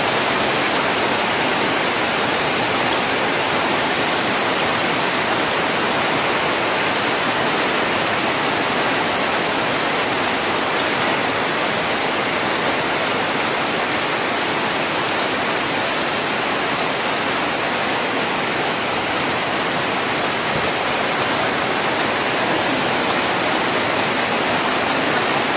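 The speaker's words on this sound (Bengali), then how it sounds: "বৃষ্টি শেষ হইতেছে না?" Steady rain falls continuously outside, an even, unbroken hiss that stays loud and constant from start to finish with no voices.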